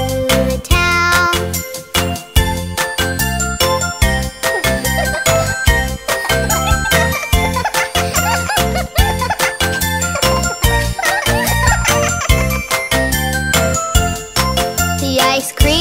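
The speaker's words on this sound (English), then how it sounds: "The ice cream truck bell goes ding-a-ling, ding-a-ling, ding-a-ling." Jingling ice cream truck bell within a bright children's nursery song, ringing continuously over a dense, loud musical backing with no spoken voices.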